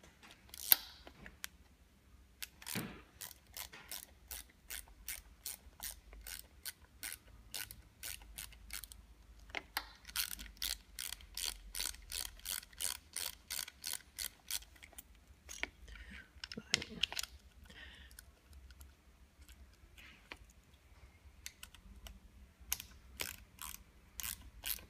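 A 4mm Allen key tightens bolts while fitting a larger console to a seat, giving faint, rapid runs of small mechanical clicks in repeated bursts with short pauses between.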